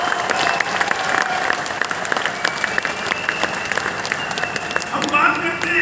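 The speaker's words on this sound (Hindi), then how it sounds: "చప్పట్లు కొట్టు" Audience applause fills a family reunion gathering in Hyderabad, a dense, steady wash of many hands clapping at close range throughout, with a few voices mixed into the crowd.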